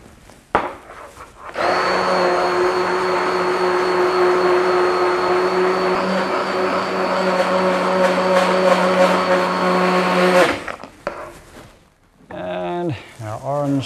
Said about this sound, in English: So just while we're pureeing that